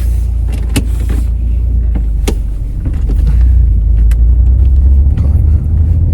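From the driver's seat of an Alfa Romeo 145 Cloverleaf, a low, steady engine rumble fills the cabin, broken by several sharp clicks and a brief electric whir like a power window moving.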